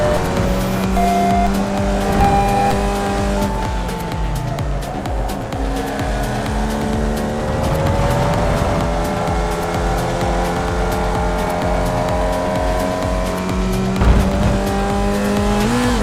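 Formula Vee race car lapping Rudskogen Motorsenter track, engine droning steadily and loudly throughout with rising and falling revs and occasional tire squeal, no talk.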